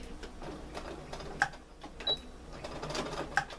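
A sewing machine stitches the side seam of a fabric trick-or-treat bag, its quiet motor whirring with soft rhythmic needle ticks and a couple of sharper clicks, heard alone.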